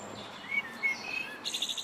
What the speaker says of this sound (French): Ils vocalisent de plus en plus tôt et de plus en plus fort pour pousser leurs cris territoriaux et leurs chants nuptiaux.